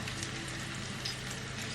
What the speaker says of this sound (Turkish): Kızartmaya başlayayım tavuğu.